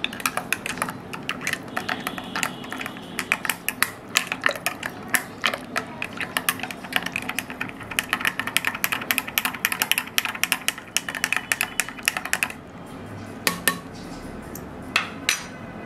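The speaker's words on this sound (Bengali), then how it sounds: "ভালোভাবে মিশিয়ে নিচ্ছি।" A spoon stirs jaggery lemon sherbet in a glass, making quick, continuous clinks and taps against the sides. The clinking is close and fairly loud, slows into a few scattered knocks toward the end, and no one talks.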